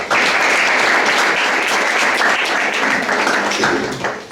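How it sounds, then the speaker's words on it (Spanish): Audience applause welcoming José Luis to a debate, steady dense clapping from a crowd that holds at full strength for about four seconds before starting to thin. "Un aplauso inicial para José Luis"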